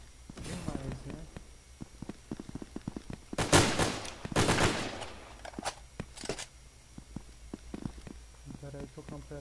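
Gunfire from an automatic weapon in the shooter video game Brain Out: bursts of rapid shots with two loud, dense volleys near the middle, heard alongside scattered clicks and movement sounds.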